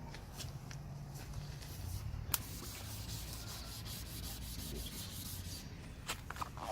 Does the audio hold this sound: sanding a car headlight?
yes